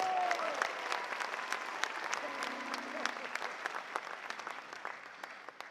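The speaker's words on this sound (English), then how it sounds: "Give them a round of applause." An audience gives a round of applause, steady clapping with distinct sharp claps throughout, at a moderate distance and fairly quiet, with a brief faint voice near the start.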